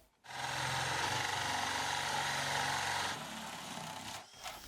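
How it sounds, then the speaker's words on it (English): A power drill whirs steadily as a 35mm flat wood drill bit bores into wood, loud and close, then slows and stops abruptly. "I can mark and cut slots for my drills using a 35mm flatwood drill bit."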